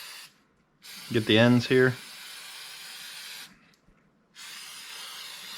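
Aerosol air filter cleaner sprayed onto a Yamaha YXZ high-flow primary air filter in bursts of steady, close hissing, with a brief spoken remark between sprays.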